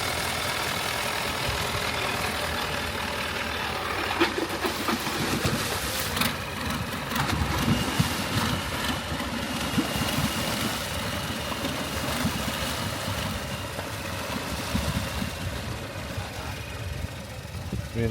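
A boat engine idles nearby at Koh Lanta Old Town, Thailand, a low, steady, churning, throbbing rumble with some background noise, no clear talk.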